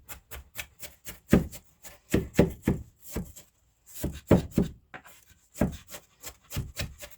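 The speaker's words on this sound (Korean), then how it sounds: "양파를 잘 다진 후에는" Knife chopping onion on a board for a cucumber kimchi stuffing, a quick, close run of sharp rhythmic chops in bursts separated by brief pauses, with no talk.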